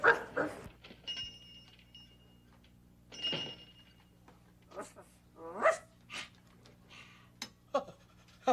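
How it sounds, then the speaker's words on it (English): A dog in a vintage Sesame Street episode gives scattered short barks, yips and panting whimpers, close and fairly loud, separated by pauses. "Oh, you are quite an intelligent dog, huh?"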